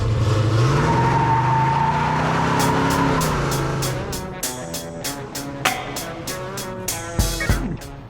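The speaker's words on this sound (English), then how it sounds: "1970 Chevelle SS" A 1970 Chevelle SS 396 muscle car revs loud and close, its engine note climbing and falling before fading into a rapid series of sharp clicks and rattles.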